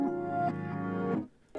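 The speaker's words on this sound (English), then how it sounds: "And I combined that with some reverse guitars." Reversed guitar layers chopped into a sustained pad, swelling in tonal blocks that cut off suddenly near the end before a brief return; alone, with no talk.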